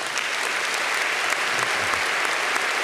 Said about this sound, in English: please join me in a round of applause for these two incredible women